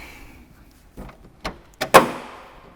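Door of a 2022 Mini Cooper SE electric car being operated: a few scattered clicks and knocks build to a sharper latch clunk and a firm thud near the end, close and fairly loud, with no speech.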